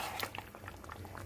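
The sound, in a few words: mutton korma sauteing in oil on high flame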